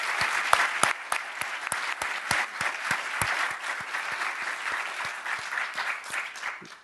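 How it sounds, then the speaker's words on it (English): Conference audience at a Books for Africa event applauding its panelists: a crowd's clapping with distinct individual claps standing out in a fairly even rhythm, moderately loud and continuous, with no talk over it. "So let's give our panelists another round of applause."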